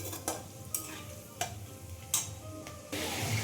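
Marinated chicken for biryani cooks in hot oil, giving a faint, steady sizzle broken by a few sharp clinks and scrapes of stirring.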